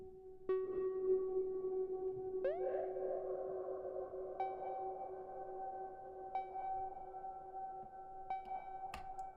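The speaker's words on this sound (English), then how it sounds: "It's a shimmer reverb." Shimmer reverb effect on a Music Thing Modular Workshop Computer synth: a few sustained tonal notes with bright plucked attacks recur every couple of seconds, each swelling into a long, airy wash that rings on steadily throughout.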